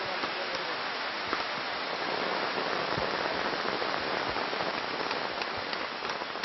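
Steady rain falls on a jungle work site in the rainforest, a dense, even hiss with scattered drops and pops throughout, loud and constant with no pauses.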